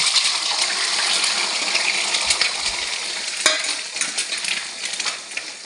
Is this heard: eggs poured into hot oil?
yes